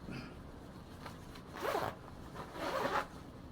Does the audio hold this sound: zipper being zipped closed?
yes